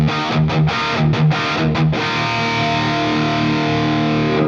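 A distorted electric guitar tone from a TONEX Plug headphone amp modeler, heavy crunchy chords played in short choppy stabs, then a sustained ringing chord that fades, loud and alone.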